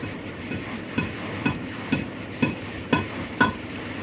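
Sharp, evenly spaced hammer taps setting a small metal grommet, about eight strikes roughly half a second apart, close and moderately loud with a slight ringing clink.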